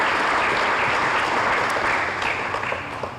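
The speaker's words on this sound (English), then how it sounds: "Let's go ahead and give all of them a round of applause." A banquet audience at an American Legion Teenager of the Year awards event gives a sustained round of applause: dense, steady clapping from many hands that carries on and tapers slightly near the end.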